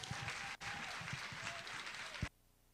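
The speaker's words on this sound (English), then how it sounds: "Clapping them, keep clapping them, keep clapping them." An audience applauds in a hall to welcome a primary school group onto the stage, dense steady clapping that stops abruptly near the end, leaving quiet room tone.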